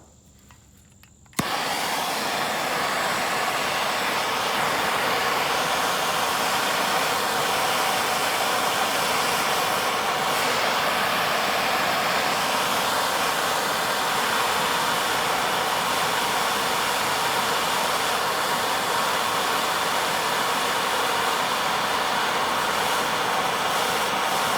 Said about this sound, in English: let's see how it holds up to the torch